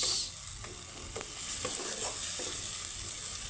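Spice paste frying in a pan with stirring: a continuous sizzle with a few scraping stir strokes breaking through, and no talk.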